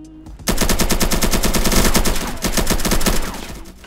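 Sustained automatic gunfire in the free-to-play shooter Polygon, a dense, loud rapid burst of shots running continuously for about three seconds after a brief quiet start.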